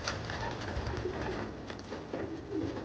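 Racing pigeons coo softly in a loft, with repeated low throaty calls over a steady background hum.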